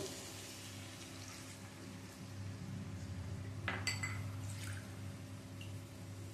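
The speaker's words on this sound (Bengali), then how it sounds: "এবারে এর মধ্যে দিয়ে দেব জল।" Water poured into a pot of browned yam and potato in spice paste for a vegetarian curry, a steady liquid wash with a few light clinks of pot and utensil, close and alone.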